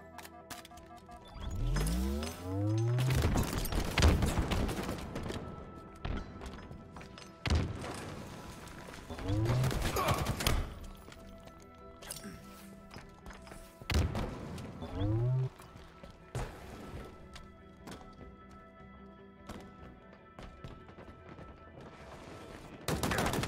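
Machine gun fire in a Halo Slayer match on the Bazaar map: bursts of rapid shots and booming impacts recur across the scene, mixed with sweeping electronic game effects and an in-game voice.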